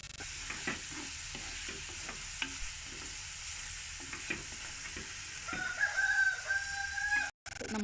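Sliced onions with salt sauté in a pan for a Kerala-style chicken roast, a close steady sizzle with regular spoon scrapes and stirring clicks, while a rooster crows in the background toward the end.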